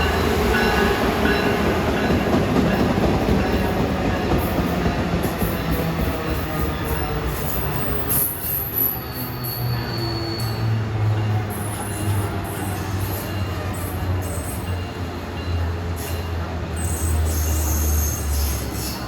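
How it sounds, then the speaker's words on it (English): A MARC commuter train hauled by a Siemens Charger locomotive passes close by on the Northeast Corridor between Baltimore and Washington, with a steady loud rumble of rolling cars, rail clatter and a brief high wheel squeal partway through. "here comes MARC 520 from Washington to Perryville at 1245 with a charger"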